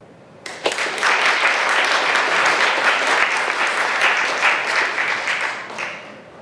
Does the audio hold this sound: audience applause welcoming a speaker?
yes